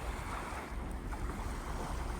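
An LNG-powered ship passing on the Columbia River, heard as a steady broadband wash of wind, water and distant vessel rumble with no distinct engine beat, fairly faint and continuous, no talking.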